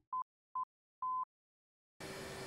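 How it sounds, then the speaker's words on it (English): Non-directional beacon tuned on the COM2 radio of a DCS World F/A-18C Hornet: three clean electronic tone beeps, two short and one longer, then a burst of hissing radio static. "But you hear that beeping?"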